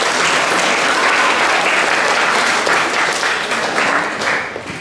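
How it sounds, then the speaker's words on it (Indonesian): Audience at a Bible reading competition event gives sustained, loud applause, dense clapping throughout that tapers slightly near the end. "kita memberikan aplaus untuk mereka ini"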